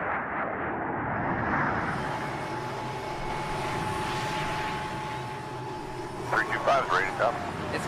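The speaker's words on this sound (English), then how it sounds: "2 chase planes flown by other test pilots will monitor his flight." An F-35 fighter jet and chase planes roar in flight, a loud steady jet rumble filling the whole stretch, with brief voice bursts near the end.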